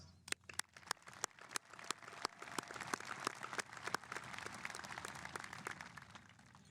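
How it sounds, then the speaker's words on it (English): Graduation ceremony audience claps, a scattered patter of many hands that thickens into steady, fairly faint applause, with no talk. "Please join me as we give them a round of applause."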